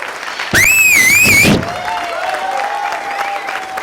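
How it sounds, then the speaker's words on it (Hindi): Loud applause and cheering from a standing training-session audience welcoming new attendees, a dense burst of about one second with a whistle-like tone over it, then fading to lighter crowd noise. "इन लोगों को जोरदार तालियों के साथ हम स्वागत करेंगे"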